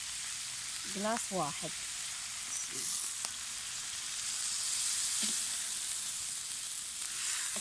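Lamb liver frying on a saj keeps up a steady sizzle and hiss as water is added, with someone speaking briefly over the cooking noise and a few light clinks.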